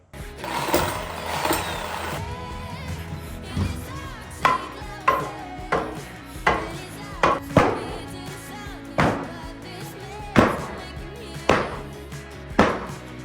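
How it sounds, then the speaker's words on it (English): A sledgehammer drives a block of wood to pound a nail-studded floorboard out from underneath during a floor renovation, with a series of heavy, regularly spaced thuds and knocks among mechanical creaks and rattles, close and loud. "take a block of wood and a sledgehammer and pound it out from the back"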